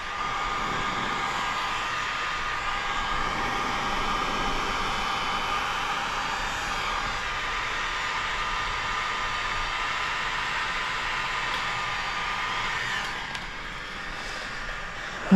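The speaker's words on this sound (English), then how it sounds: "I find sometimes it's helpful to keep the heat gun pointed away from your hand" A heat gun blows a steady, loud stream of hot air while paint protection film is applied to the front bumper of a 2025 Audi RSQ8, droning continuously with no pauses.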